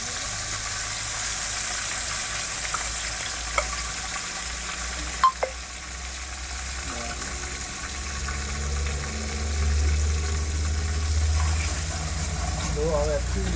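Onions fry in a pan and get stirred, with a continuous sizzle and a few sharp clinks of a utensil against the pan. A low rumbling hum sits underneath.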